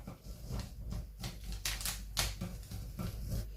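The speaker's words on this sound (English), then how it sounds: "So I will trace it out using this tracing wheel." A tracing wheel rolls over fabric marking a palazzo pant pattern, producing a close, continuous rapid clicking rasp that rises and falls with each stroke.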